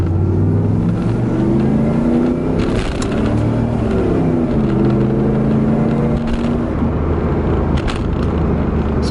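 A Pontiac Firebird Formula project car with the F-Body V8 engine is revved in short blips, its low engine note rising and falling loudly and close by with no talking.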